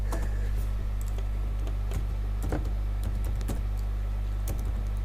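Typing on a computer keyboard: sparse, irregular key taps close by, set against a steady low electrical hum, with no voices.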